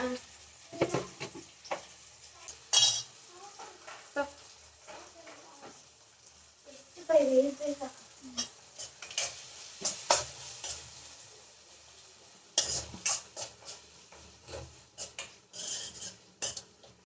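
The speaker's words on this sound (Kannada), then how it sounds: "ಫ್ರೈ ಆಗ್ತಾ ಇದೆ ಕಾಳು" Seeds frying in a hot pan at home, a soft sizzle with intermittent scraping and clinking of a spoon against the cookware, and a few voices talking at times.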